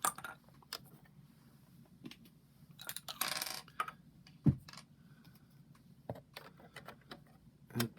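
Dice rattle and clatter on a tabletop during a tabletop APBA baseball game, a few sharp scattered clicks and taps against quiet room noise with no talking.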